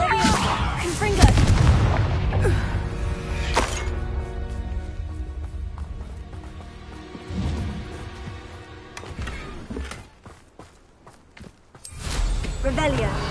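Confringo blasting curses fire in Hogwarts Legacy as booming spell explosions amid combat clatter, impacts and footsteps, with a player talking over the action.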